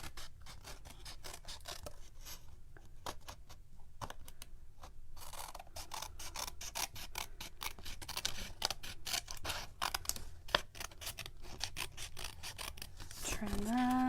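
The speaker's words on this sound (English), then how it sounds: "get out your snips, and you're going to trim off that excess" Snips trimming excess paper from a handmade stamped card envelope, a long run of quick, close, crisp cutting strokes with a steady rhythm throughout.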